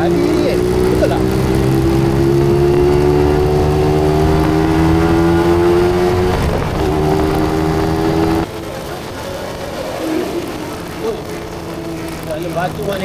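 A Yamaha 125ZR motorcycle engine being ridden drones loud and steady, its pitch creeping upward for about eight seconds, then drops to a lower, rougher running note.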